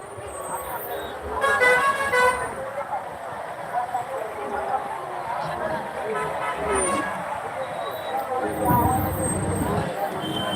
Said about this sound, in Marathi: पूर्ण ट्रॅफिक जाम आहे पंढरीच्या वारीमध्ये